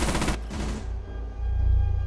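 Shotgun gunfire in Rainbow Six Siege, Grim Sky season Kanal map: one heavy, loud blast opening the moment, then a second burst as the first echo fades, with a low rumble of game ambience underneath.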